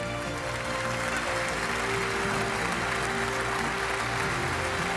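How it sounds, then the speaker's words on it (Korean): Sustained congratulatory applause from an audience at a pin award and promotion ceremony, a steady dense wash of clapping that holds evenly for the whole stretch with no talk over it. "한 번 더 축하의 박수로 함께 해주십시오."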